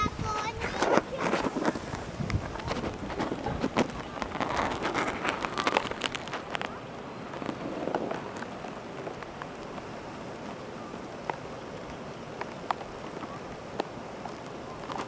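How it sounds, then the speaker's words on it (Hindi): Steady rain patters on a surface, heavier at first then settling into a softer, even hiss with some wind noise. "बारिश अच्छी खासी होना शुरू हो गई"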